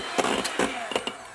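A whisk beats room-temperature egg whites for a pavlova in a bowl, giving about four quick rhythmic scraping strokes close up, with no talking.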